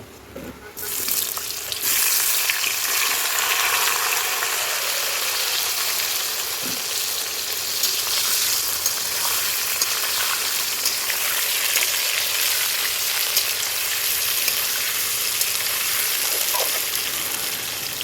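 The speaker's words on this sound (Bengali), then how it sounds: "তো এবার এঁচড়গুলিকে তেলে ভেজে নেব।" Pieces of green jackfruit fry in hot oil, giving a dense, loud, continuous sizzle that starts abruptly and holds steady for the whole stretch, with faint stirring underneath and no talking.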